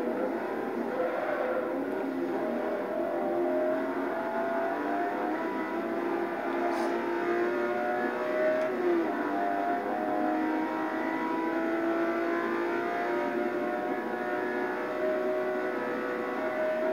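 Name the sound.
Bugatti race car engine revving in a video game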